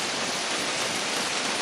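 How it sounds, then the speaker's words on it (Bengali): Steady, dense rain pouring down in a broad even hiss that fills the whole stretch without a break, close and fairly loud with no voices. "যখন দেখবেন এরকম বৃষ্টি, আল্লাহর রহমতের বৃষ্টি"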